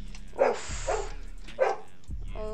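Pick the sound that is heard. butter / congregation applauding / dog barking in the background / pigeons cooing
dog barking in the background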